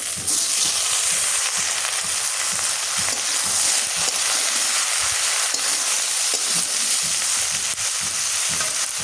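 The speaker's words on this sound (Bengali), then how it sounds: "ভাজা হয়েছে, এবার দুন্দুল দিয়ে দিই।" Gourd pieces fry in hot oil with chopped onion and green chili in a pan, making a steady, loud, close sizzle with crackling throughout and no talking.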